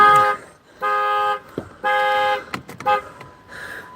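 A Jeep's car alarm blares outdoors at a state park, loud repeated horn-like honks in evenly spaced bursts, close by, with short rustles and clicks in the gaps between them.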